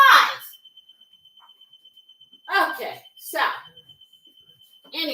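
A household alarm rings in a kitchen with a continuous high tone and rapid, regular pulsing throughout. Someone talks over it at intervals.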